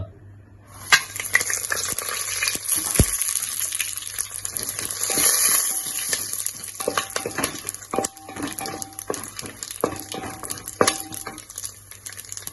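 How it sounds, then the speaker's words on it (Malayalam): Whole garam masala spices, including cinnamon, cardamom, cloves, star anise, cumin and bay leaf, fry in oil for prawn biryani, giving a close sizzle with scattered clicks and stirring scrapes throughout. "ഇനി നമുക്ക് ഗരം മസാലകളെല്ലാം ഇടാം"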